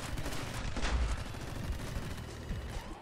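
Rapid machine gun fire from the video game My Friend Pedro crackles as a dense, continuous burst of shots, moderately loud and unbroken, with no talk.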